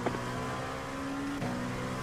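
Engine of an LMP2 prototype race car at Virginia International Raceway, heard from inside the cockpit as a steady, loud drone; a brief pitch drop and shift near the end suggests a gearchange while another car closes in.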